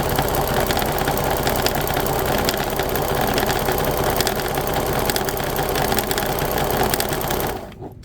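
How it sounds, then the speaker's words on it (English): A freshly oiled sewing machine runs flat out, a loud continuous mechanical whir with a rapid needle-bar clatter, holding steady for about seven seconds before stopping abruptly. "I turn on the sewing machine and I run it really fast so that that oil is going to run through it"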